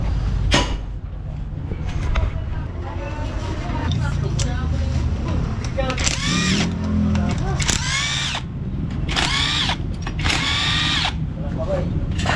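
Power tool loosening screws on the crankcase near the clutch housing of a Kawasaki Barako motorcycle, loud whirring bursts that rise and stop repeatedly, with someone talking throughout.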